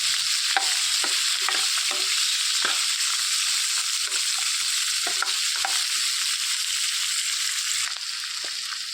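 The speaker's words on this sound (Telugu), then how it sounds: "దానికి రంగు వచ్చే వరకు వేయించేసుకోవాలి" Chopped onions fry in a pan with a continuous, even hiss of hot oil, with occasional soft scrapes of a spatula stirring them, close and steady throughout.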